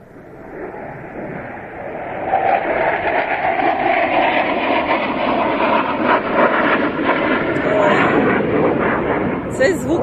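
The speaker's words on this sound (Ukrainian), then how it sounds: "Колись так діти з радістю бігли, бо летить літак, а тепер страшно." An airplane passes overhead above a garden, its broad engine roar swelling after a couple of seconds and holding steady and loud, with faint birdsong and nearby talk underneath.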